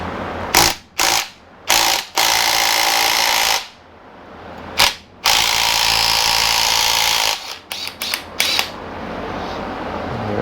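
Power tool with a 7mm socket spinning off the camshaft pulley nut on a Yamaha YFM225 ATV engine, several loud ratcheting bursts of varying length, the longer ones steady and whirring, separated by short pauses.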